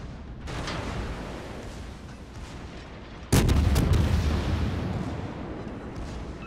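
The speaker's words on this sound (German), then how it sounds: "Die Schüsse gingen leider ins Wasser." Naval guns fire from the cruiser Zao in the World of Warships video game: a sudden heavy boom rings out mid-clip over the rumbling battle ambience, then fades into a long echoing tail.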